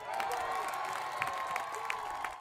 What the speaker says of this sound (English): A firecracker that sent the hometown crowd into a frenzy.